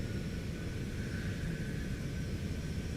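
Deep, continuous broadband jet roar from a Cessna Citation X deploying its thrust reversers on landing in a flight simulator game, steady and rumbling with a faint high whine above, no voices.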